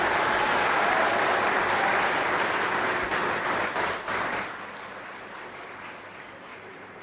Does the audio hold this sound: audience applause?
yes